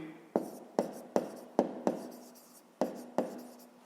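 Handwriting a math solution, seven sharp taps and strokes of pen or chalk on the surface in an irregular rhythm, close and fairly quiet, with no talk.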